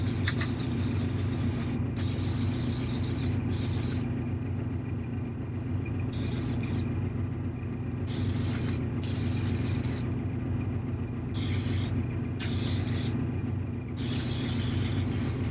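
An airbrush with its needle partly locked down sprays a mist of yellow paint in repeated hissing bursts of a second or two, separated by short pauses, over a constant low background hum.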